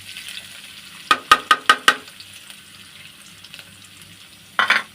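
Chopped onion and chili drop into a hot pan and frying begins, with a quick run of five sharp scraping strokes, then a soft sizzle and one more scrape near the end, close and fairly loud with no talking.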